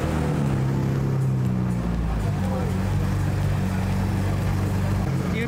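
A JDM car at a Taiwanese car meet idles after starting, its steady low engine rumble and exhaust drone running continuously and fairly loud, with crowd noise and outdoor chatter in the background.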